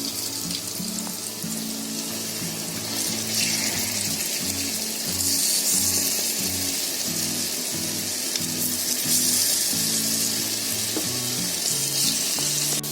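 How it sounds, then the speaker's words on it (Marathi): Raw banana kofta sizzles in hot oil in a pan with a steady, hissing crackle that is moderately loud and continuous, with no voice over it. "कोफ्ते आपले मस्त फ्राय झालेत बघा."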